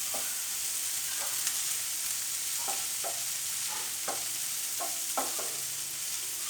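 Green chili tamarind curry being stirred in a pan, a steady sizzle under a string of spaced scraping strokes of the spoon, close by with no talking.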